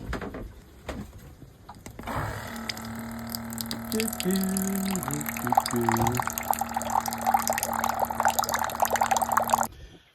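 Water runs from a tap into a measuring cup aboard a sailboat lying at anchor, a steady close splashing stream lasting several seconds after a brief quiet start.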